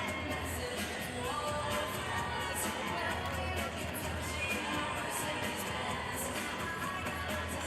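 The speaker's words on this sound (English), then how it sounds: "you can hear the crowds behind us" A crowd at a boys' state basketball tournament cheers and shouts steadily, forming a dense, continuous wash of voices throughout an indoor arena.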